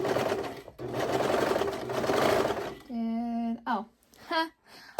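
A serger sewing machine runs with a steady close whir that stops after a few seconds, followed by a person speaking in short bursts.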